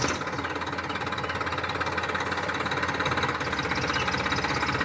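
A Sonalika tractor engine runs steadily at close range, a continuous rumbling drone with a fine mechanical rattle that holds an even level throughout.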